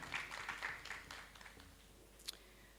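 Soft, scattered audience clapping at a women's leadership forum welcome speech in Accra, faint and brief, fading out after a couple of seconds.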